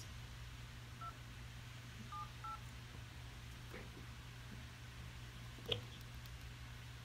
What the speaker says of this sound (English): So as you can see, it is dialing perfectly.